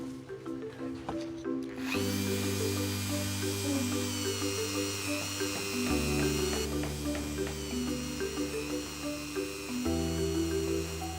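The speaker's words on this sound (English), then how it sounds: "I've got this pendant drill. It's got a wire brush just on the top there, and it's perfect for getting to all those nooks and crannies." A pendant drill spinning a wire brush to scrub rust off an old piece during a repair workshop restoration, a steady high whine with shifting pitch as pressure changes, fairly quiet and continuous without talk.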